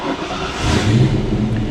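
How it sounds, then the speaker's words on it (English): Freshly revived Ford Foxbody Mustang engine running close by, a rough mid-pitched idle that swells into a fuller steady rumble after a moment. "The car sounds so happy now."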